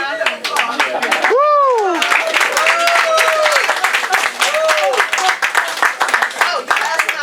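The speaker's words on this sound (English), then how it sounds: "George a big round of applause." Audience applause for George McKenna at the opening of his campaign for District 1, a crowd clapping steadily with cheers and whistles mixed in and voices calling out over it.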